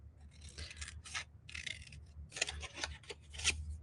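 Scissors snipping paper while trimming a scripture paper craft cross, a few close bursts of crisp cutting strokes separated by short pauses.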